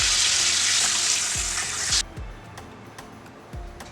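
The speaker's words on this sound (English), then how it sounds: "In my pot goes some oil. I am adding my aromatics to this and give it a nice saute" Oil hisses loudly in a pot for about two seconds with aromatics for a Caribbean stew fish, then drops to a quiet crackle with a few low thumps and clinks.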